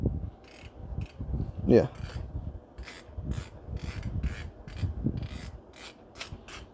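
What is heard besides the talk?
winding 127 film through a vintage camera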